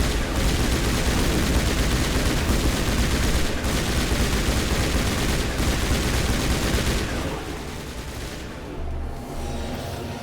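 Sustained squad gunfire in Mass Effect 1 Legendary Edition on PS4: a loud continuous barrage of overlapping shots and blasts for about seven seconds, then easing off into quieter combat noise.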